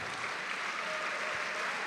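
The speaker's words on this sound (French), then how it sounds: "On peut les applaudir bien fort tous les deux, bravo." Crowd applause rising after a jiu-jitsu semifinal bout ends at a Nova GP CFJJB tournament, a faint, steady wash of clapping from a distance with no talk over it.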